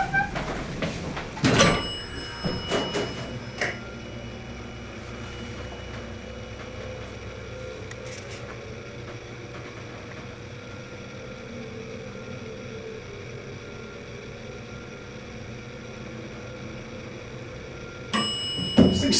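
A dry-hydraulic elevator motor in Litton-Reaves Hall at Virginia Tech runs as a steady low hum during the ride, with clunks and a door chime at the start and more clatter near the end.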